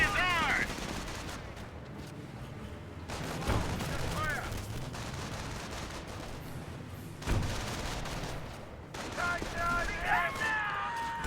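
Bursts of automatic rifle and machine-gun fire from a Company of Heroes 1 battle between US and Wehrmacht forces, loud volleys repeating over several seconds amid explosions, with a commentator talking throughout.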